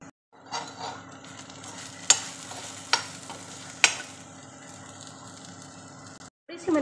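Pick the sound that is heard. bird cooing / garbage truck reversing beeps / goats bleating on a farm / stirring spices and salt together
stirring spices and salt together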